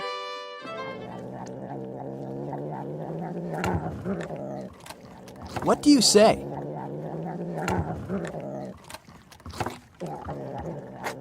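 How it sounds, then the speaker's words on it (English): A cat purrs close up with a steady, rumbling, buzzy drone that keeps going at a low pitch, and a brief voice speaks at the start. "it's the sound of a purring cat."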